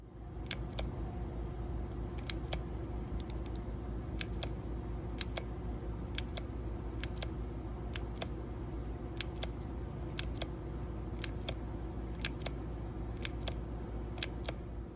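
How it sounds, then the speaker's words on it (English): A caps lock key fitted with an aqua green clicky switch is pressed repeatedly: crisp, close clicks arriving roughly every second, often in quick press-and-release pairs, over a steady low background hum with no talking. "Here are some close-up video clips of how the caps lock key behaves, looks, and sounds with the aqua green switch."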